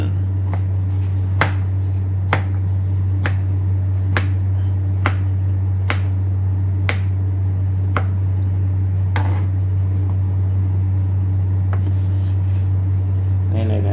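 A knife cuts ham into strips on a cutting board in a kitchen, giving a steady series of sharp, evenly spaced chops close by over a constant low hum.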